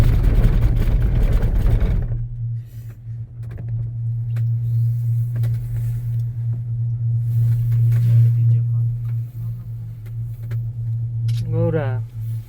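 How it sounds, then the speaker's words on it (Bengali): A motor hums with a steady low drone that holds for most of the stretch after a louder opening burst of noise, with brief faint clicks and a short warbling chirp near the end. "মোটর টানছে ঠেলছে।"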